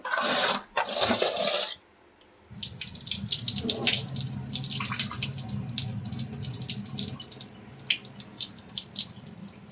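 Water from boiled red ponnaganti greens is poured off into a bowl: a sharp clatter, then a steady splashing trickle with small drips and clinks, close and moderately loud.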